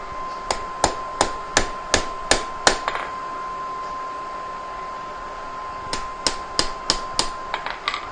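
Blacksmith's hammer striking a chisel on hot metal, two bursts of sharp ringing blows in quick even rhythm separated by a pause, loud and close over a steady background hum, no talking.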